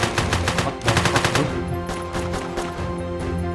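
Rapid automatic gunfire from a video game, dense rattling bursts that run continuously and loud, fading slightly toward the end.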